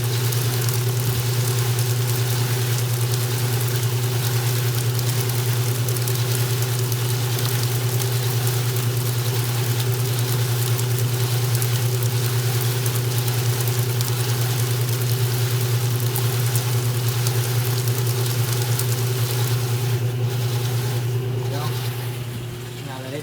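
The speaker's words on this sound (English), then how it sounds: "This one's still doing its full minute spray rinse." A washing machine's steady motor hum under a continuous hiss of spraying water during a full-minute spray rinse, constant and close for the whole stretch, easing off slightly at the end.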